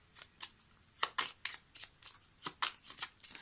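Tarot cards being shuffled and drawn at a table, with a quiet run of crisp, irregular riffling flicks and card snaps spaced unevenly over a few seconds, close to the microphone.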